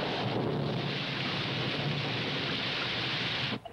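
Dense, continuous rain hiss, loud and steady throughout, ending abruptly with a brief soft thud near the end.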